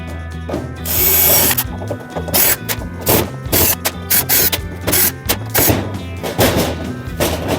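A power screwdriver removes screws from the display panel of an LG washer dryer. It gives loud, close bursts of whirring motor drone broken by short clicks and thuds as each screw comes out, with no voices.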